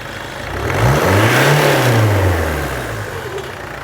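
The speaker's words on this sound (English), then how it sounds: "give the engine a rev" A car engine in a workshop gets a single rev during an EGR system test, climbing from idle to a higher pitch and settling back down, close and loud with no talking.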